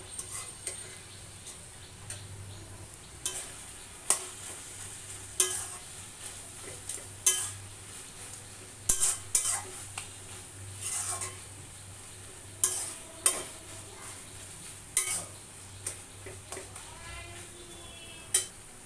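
Fish curry with sour chui leaves stirred in a pan, a faint low sizzle under scattered ticking clinks and scrapes of a spoon against the metal, close by, with no talk.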